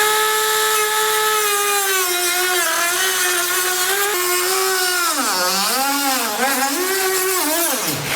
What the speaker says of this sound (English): I'm going to use a Dremel tool to cut it.